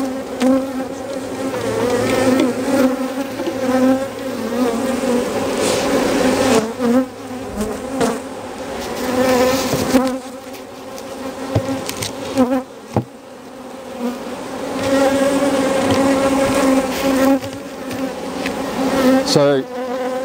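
Honey bees buzz steadily around a hive with a horizontal brood chamber beside honey supers, a dense close drone filling the whole stretch with slight swells and dips and no talking.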